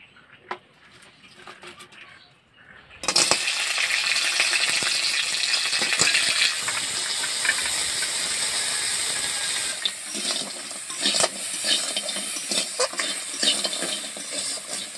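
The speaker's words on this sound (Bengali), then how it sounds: "প্রথমে সরষের তেল দিয়ে দিচ্ছি, কাঁকড়াগুলোকে ভেজে নেব হালকা করে" Crabs frying lightly in mustard oil, an abrupt loud sizzle as they hit the hot pan, then a sustained crackling hiss with rattling stirs and clatters, preceded by quiet kitchen handling.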